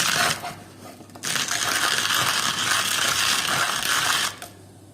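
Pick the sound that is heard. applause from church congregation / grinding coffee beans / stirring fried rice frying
grinding coffee beans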